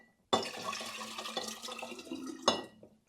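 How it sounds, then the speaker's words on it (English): Four cups of water for strawberry lemonade pour into a pitcher, a steady splashing stream starting abruptly, running about two seconds, then a brief surge and tapering off, close and moderately quiet. "So now we need 4 cups of water, and I'm just gonna add this right into our pitcher."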